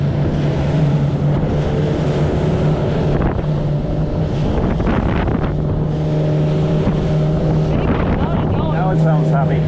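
A RIB boat engine runs at around 5,000 rpm at speed, with a steady loud drone under heavy wind and water rush and some talk from people aboard.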